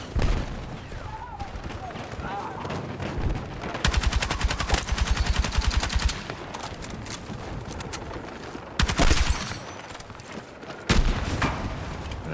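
Gunfire in Battlefield 6 gameplay with the War Wolf L85A3 rifle: loud, rapid automatic bursts in several long stretches, separated by quieter gaps with distant shots and battle noise.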